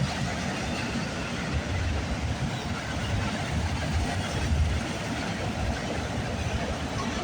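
A CN freight train passes near Burlington West on the Oakville Subdivision as a dense, steady roar of rolling cars and rumbling wheels, loud and continuous throughout.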